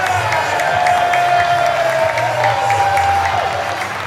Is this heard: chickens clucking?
no